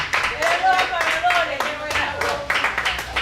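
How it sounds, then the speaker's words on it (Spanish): A church congregation claps in a loose, rhythmic pattern up close, while a voice or sung tone carries over the top of the hand claps. "Dele un aplauso al Rey de Reyes."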